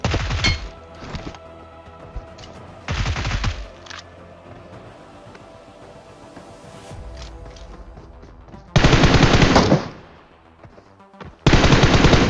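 Loud bursts of automatic gunfire in the mobile shooter BGMI, several rapid volleys separated by quieter stretches of in-game movement and thuds.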